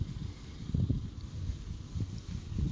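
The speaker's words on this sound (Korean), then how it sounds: "바람도 많이 불고요" Strong wind gusts across a snowy mountain pass at Hangyeryeong, a low, steady roar buffeting the microphone with swelling rushes and no voices.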